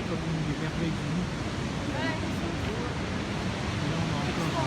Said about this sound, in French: Et là, on a encore une partie de la cascade qui est impressionnante.